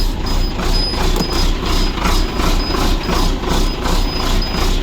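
International DT466 diesel engine idling, a loud, steady low rumble with a rhythmic pulsing throb and a faint high whine, close by.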